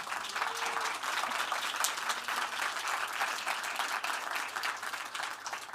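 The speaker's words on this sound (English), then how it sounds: "A big round of applause." Steady, dense audience applause at the opening of the Falling Walls Lab Marie Skłodowska-Curie competition, many hands clapping together at an even, sustained level with no voices over it.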